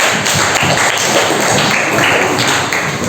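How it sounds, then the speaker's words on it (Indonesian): Classroom of students clapping for a student group, a dense continuous patter of hand claps at close range, steady and loud throughout with a faint voice mixed in. "Tepuk tangan untuk kelompok 3."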